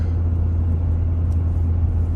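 Pickup truck engine driving on a road, a steady, loud low rumble with constant road noise that holds level throughout without any clear revving.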